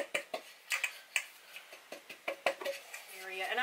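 Light metallic taps on a greased and floured Bundt pan, about a dozen quick, irregular knocks close up, ending in a brief scraping shuffle as the flour is shaken around.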